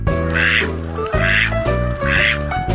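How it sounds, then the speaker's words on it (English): Ducks quack in three loud, evenly spaced bursts of nasal calls, each about half a second long and close to the listener, with no talking. "Some ducks quack."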